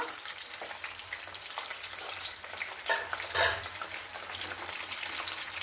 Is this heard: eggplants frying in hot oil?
yes